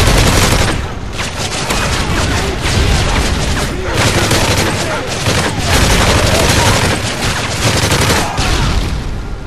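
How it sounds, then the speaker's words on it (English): Grenade launcher fire in the shooter game Offline Survival produces a loud, continuous barrage of explosive bangs and booms, dense and chaotic with sharp blasts punctuating the rumble from start to finish. "You're a freaking grenade launcher."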